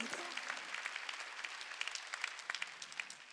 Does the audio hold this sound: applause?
yes